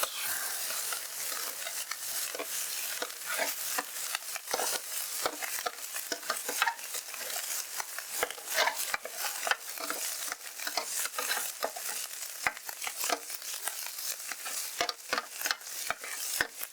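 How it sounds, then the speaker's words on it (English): Rice fries on a Blackstone flattop griddle, a steady bright sizzle broken by frequent scraping clicks of a spatula stirring and breaking up the rice, close and continuous. "we have our rice in there, and we're just gonna separate that out, break it up a little bit"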